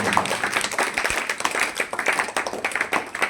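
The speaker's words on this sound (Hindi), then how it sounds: "जोरदार तालियां बजाओ भाई विक्रांत" A classroom of students claps for the top scorer on a weekly test, a lively, uneven burst of close hand claps that keeps going throughout.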